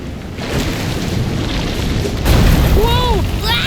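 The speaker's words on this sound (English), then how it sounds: "This is some storm." Stormy sea weather in the Visions of Mana game, with a steady broadband roar of rain and wind and a deep booming swell at mid-clip, then whistling chirps near the end, continuous and fairly loud.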